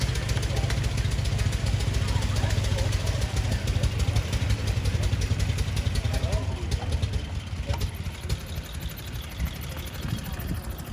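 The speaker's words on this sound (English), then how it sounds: "the high-wheelers have been anxious to get out there and exercise those engines." Antique high-wheeler motor buggies, among them a 1909 Sears motor buggy, idling and running together at the AACA Fall Meet in Hershey, a steady loud rough chugging and knocking that continues throughout with a brief sharp clack near the end.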